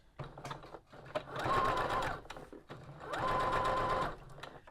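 A sewing machine with a buttonhole attachment stitches a buttonhole for a quilted bag, two sustained bursts of fast mechanical whirring separated by a short pause, with clicks of the mechanism in between.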